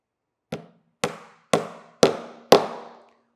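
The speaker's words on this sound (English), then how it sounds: "I'm going to go ahead and hammer in my second nail." Five sharp, evenly spaced hammer strikes drive a nail into a wooden pin art board, each a close, loud knock with a short decaying ring, alone with no talking.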